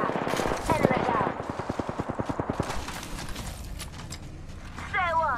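Rapid automatic gunfire from the Apex Legends video game rattles in a fast, even burst of shots, with a voice talking at the start and end.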